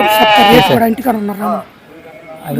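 Sheep and lambs bleating close by at the Guduru livestock market, with a few wavering bleats overlapping a voice talking.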